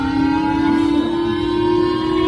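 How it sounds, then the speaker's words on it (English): Siren noise blasted from a phone in a restaurant, a steady wailing civil-defense-style tone held loud and continuous with no talk over it. "he kept blasting siren noises from his phone"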